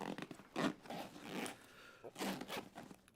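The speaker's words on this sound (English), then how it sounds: "you can still zip up the sides" Two short zipper pulls on a double-zippered side pocket of a Deep 9 Design Maxx1, close and crisp with a pause between them, and no talk.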